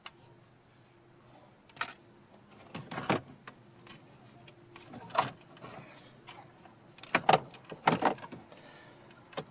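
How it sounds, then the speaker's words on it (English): Plastic dash bezel on a 2015 Ford F-150 being pried loose with a dash removal tool, giving scattered sharp clicks and snapping pops of releasing clips between quiet scraping. "We'll just work our way around with our dash removal tool. And pull out at the same time."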